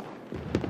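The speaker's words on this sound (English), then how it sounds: "The Peace Day fireworks lightened the mood." Peace Day fireworks go off at a distance, heard as a few soft, muffled booms and pops over low background rumble.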